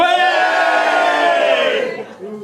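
A wedding reception crowd cheers and hollers loudly and steadily for about two seconds before the noise drops away, the sound dense and close with many voices together.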